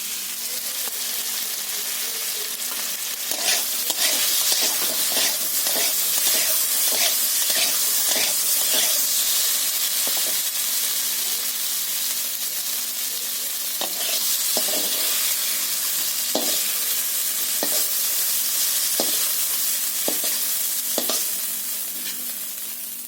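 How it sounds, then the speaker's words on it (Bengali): Parboiled potatoes fry in oil in a pan with a steady, fairly loud sizzle lasting over twenty seconds, broken by repeated sharp scrapes and stirring knocks from a spatula, with no talking. "আলুটা আমি একটু সেদ্ধ করে নিয়েছিলাম, তো নিয়ে আমি ভেজে নিচ্ছি"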